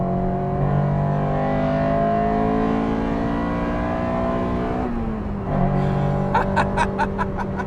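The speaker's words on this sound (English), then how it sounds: "So I'm going to drive with the VTEC a little bit more" An Acura Integra Type R is driven hard, its engine holding a high, steady whine from inside the cabin, then dipping briefly before climbing again, with light rhythmic clicking toward the end.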